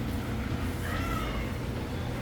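An angry cat meows in a short rising, strained cry, moderately close, over steady low background rumble, with no talking.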